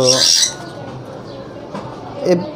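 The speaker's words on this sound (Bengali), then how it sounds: "আমি প্রথমে একটি ফিমেল নিয়ে এসেছি এটি এটি সম্পূর্ণ লটিনো এটি একটি অ্যাক্টিভ পাখি" A female lutino cockatiel gives a loud, close squawking call at the start, followed by softer chirps and a second brief call near the end, with faint background noise between.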